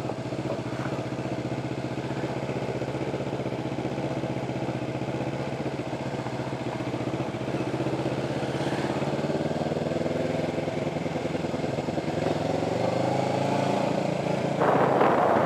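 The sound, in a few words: motorbike riding through a shopping mall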